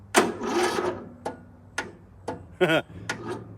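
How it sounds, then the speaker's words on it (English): A small lawn mower engine cranking and failing to start: a series of short sputtering bursts and clicks, each catching briefly and dying, with gaps between attempts, close and fairly loud. "here we have my other mower. Let's listen to this."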